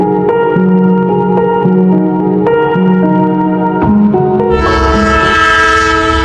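A train at Dhaka Cantonment railway station sounds a loud, sustained, tonal horn in several held blasts, then a wider, brighter horn chord swells in, close and dominant with no voices.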